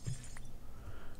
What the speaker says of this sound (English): Take out this piece of glass